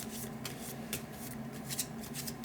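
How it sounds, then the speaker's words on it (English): A deck of cards for the Numbsters card game, with the 8 left out, is riffled and shuffled up close in a continuous papery rustle with several sharper flutters and snaps. "you would shuffle the deck without the 8"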